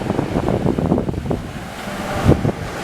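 Sea waves at Pozhiyoor beach, a coastline where the sea has surged in and wrecked houses, heard as a steady rushing surf with wind buffeting the microphone and a louder wash near the end.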